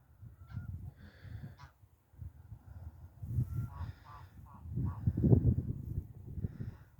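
Domestic geese out at pasture honk in several loud, nasal bursts, overlapping calls rising to a busier clamor near the end, with no talk.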